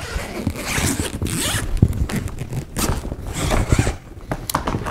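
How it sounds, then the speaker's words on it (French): Zipper being fully opened on an expandable suitcase, a loud, close, continuous rasping pull lasting several seconds with brief pauses in between. "vous avez une fermeture éclair que vous pouvez entièrement ouvrir"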